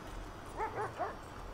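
Dog barking in the video game GTA 5, three short, moderately loud yips in quick succession over a steady background hum, with no talking.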